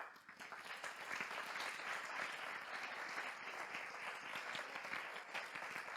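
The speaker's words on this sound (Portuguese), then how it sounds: "Vamos dar um forte aplauso." Warm, sustained applause from a crowd at a Portuguese-language gathering, dense overlapping claps rising quickly and holding steady for several seconds, moderately distant and without speech.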